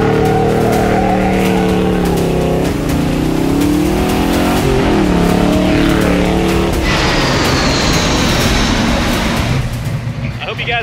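A 1961 Pontiac Catalina with a 421ci V8, a 4-speed manual, a rebuilt carburetor, new tires and new brakes, heard up close on a test drive: the loud engine revs and climbs through gear changes, then the tires squeal over the engine's roar.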